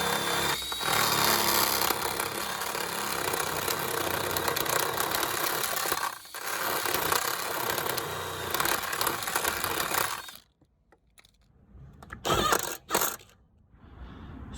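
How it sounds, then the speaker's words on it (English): A power tool grinds rust off the bodywork of a Citroen car, running loud and steady for about ten seconds before cutting out, followed by a few short, sharp bursts. "Let's get rid of some of this rust with a correct tool."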